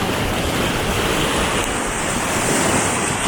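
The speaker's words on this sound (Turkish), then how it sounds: "Ay ay ne güzel dalgalar." Loud, continuous roar of ocean waves breaking and washing in at Gazipaşa, Turkey, with wind buffeting the microphone throughout.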